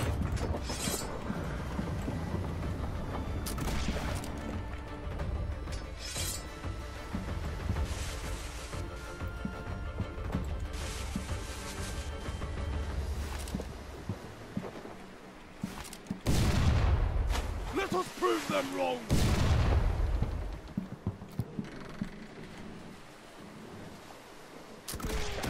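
Gunfire in the pirate naval combat game Blackwake: repeated sharp shots and heavier blasts crack out over a constant rumbling battle din, with a dense cluster of loud reports near the end.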